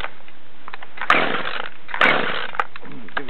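Jonsered chainsaw being cold-started with the choke out, with sharp pull-cord bursts and brief coughs of the two-stroke engine heard up close in two main surges over a short span.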